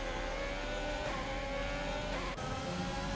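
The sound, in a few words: Ferrari cars racing in F1 video game on Xbox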